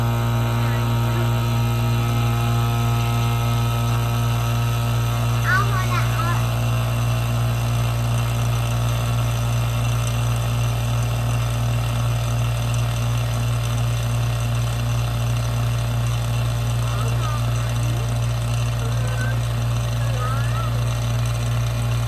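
A pump evacuates a vacuum chamber with a steady, unbroken mechanical drone and low hum that holds at an even level throughout, close and continuous with no talking over it.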